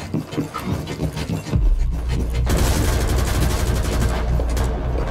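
Dense, rapid gunfire rattles continuously after a brief lull, loud and sustained like automatic weapons in a Rainbow Six Siege team deathmatch battle on the Theme Park map.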